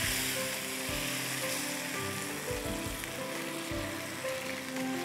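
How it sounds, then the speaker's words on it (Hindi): Chicken wings simmering in a thick, sticky sauce in a pan give a loud, steady, close sizzle and bubble with occasional soft stirring, and no one speaks. "अब इसको हम पकने के लिए छोड़ देंगे ताकि विंग्स अच्छे से पक जाएं"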